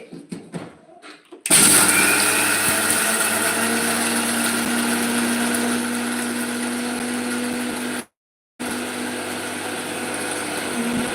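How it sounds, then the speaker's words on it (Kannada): A mixer grinder roars loudly and steadily after a quiet start, with a brief cut-out near the end before the whirring resumes. "ಇನ್ನೊಂದು ರೌಂಡ್ ಗಿರ್ರಿ ಮಾಡಿಸ್ಕೊಂಡ್ರಾಮು ಮಿಕ್ಸರ್ಗೆ ಹಾಕ್ತೀನಿ"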